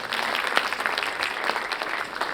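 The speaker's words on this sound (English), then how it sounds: "Once again, can we have a round of applause for her," Steady, dense applause from a conference audience after a speaker at a community impact session, continuous clapping of many hands at even loudness throughout, heard alone without speech.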